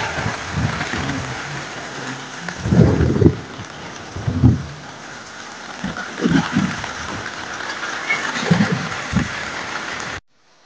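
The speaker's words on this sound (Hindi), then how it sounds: "बहुत दिनों के बाद बहुत तेज बारिश हो रहा है" Heavy rain pours steadily during a storm, with several low rumbles of thunder rolling in close together and swelling above the constant downpour, then the sound cuts off abruptly.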